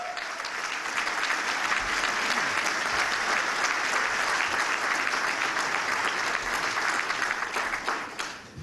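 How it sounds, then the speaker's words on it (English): A full-house morning crowd at a chamber of commerce breakfast gives a long, even round of applause. The dense, loud clapping holds steady for over eight seconds before trailing off. "Let's have a round of applause to start for Randy Edsall."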